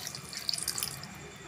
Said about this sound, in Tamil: கொஞ்சமாக தண்ணி சேர்த்துக்கலாங்க.